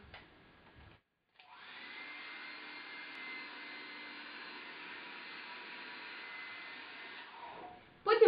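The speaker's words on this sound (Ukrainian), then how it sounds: "і сушити феном декілька секунд" A hair dryer blows with a steady, airy whir for several seconds, starting abruptly after a brief pause and cutting off near the end.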